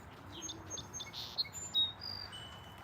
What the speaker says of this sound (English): A lot of bird activity going on out here right now